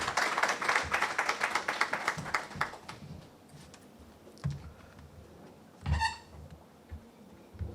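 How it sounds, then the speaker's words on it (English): Audience applause at a currency conference as the dean mounts the podium, a brief burst of clapping that fades within a few seconds, followed by quiet room noise, shuffling and a short honk-like tone. "A round of applause as he mounts the podium."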